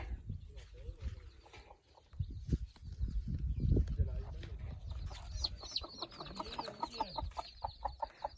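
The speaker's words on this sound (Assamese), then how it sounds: "আমাৰ এইটো মুৰ্গী ঘৰ হয়। চাওক কিমান মুৰ্গী আছে।" Chickens cluck and murmur nearby in a busy, overlapping chorus inside a chicken house, with some rustling and a voice speaking over them.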